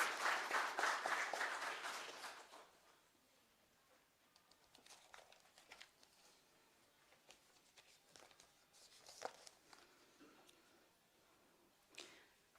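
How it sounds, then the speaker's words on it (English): Church congregation at a baccalaureate Sunday service applauding scholarship recipients; a loud burst of clapping for about two seconds quickly dies away, leaving quiet rustling and scattered small taps. "ask for a round of applause for all of our wonderful scholarship recipients"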